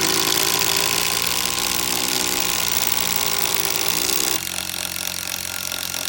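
A new Makita XGT impact driver and an old DeWalt DC825 impact driver run together, a loud, continuous rapid hammering buzz that drops in level and pitch partway as one stops.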